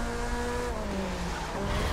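A car drifting in The Crew racing video game, with a continuous loud engine roar and sliding tire squeal wavering in pitch across a short burst, no voices.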